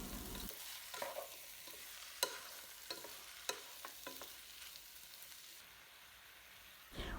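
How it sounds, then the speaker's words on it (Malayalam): Pepper chicken stirred with masala in a pan, a soft sizzle of frying under scattered scrapes and clinks of the spoon against the pan, close and fairly quiet, with no talking. "ഈ മസാലയൊക്കെ ചിക്കനിൽ പിടിക്കാൻ നന്നായി ഇളക്കി കൊടുക്കാം"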